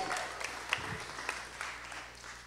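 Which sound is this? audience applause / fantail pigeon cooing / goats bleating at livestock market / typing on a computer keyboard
audience applause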